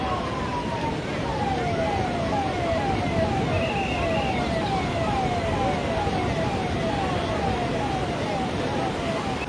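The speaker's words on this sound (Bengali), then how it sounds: "দেখুন এখানে কিন্তু কোস্ট গার্ড সাইরেন দিচ্ছে যারা অনেকটা দূরে চলে গেছে" A coast guard siren sounds repeatedly at busy Puri beach, a rising-and-falling wail cycling steadily at moderate distance over constant surf and crowd noise, with voices in the background.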